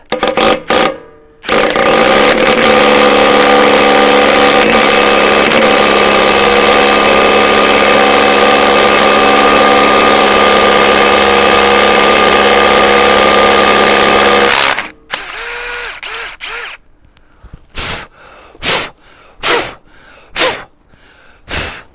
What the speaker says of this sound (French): je sais que c'est là qu'il faut que je perce